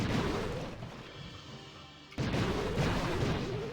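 Bomb blasts in Clash of Clans, a heavy rumbling explosion bed that fades, then a sudden loud burst partway through with continued crashing after.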